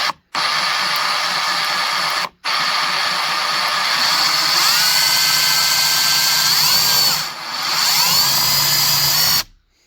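A repaired Ryobi Sawzall reciprocating saw with a brushless motor runs loud and close in long bursts, its dense high-pitched whine cutting off abruptly twice and dipping briefly late on, with no talking over it.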